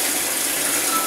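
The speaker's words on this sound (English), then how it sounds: "I'll fill the bowl up to where it was before last time" Hot water gushes from a tap into a bowl in a steady, loud, unbroken pour that lasts about a second.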